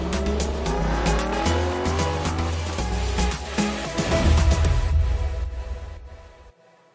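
A Lexus LC500 convertible drives on a bright, sunny day, its engine a steady, full drone that swells briefly before fading away toward silence at the end.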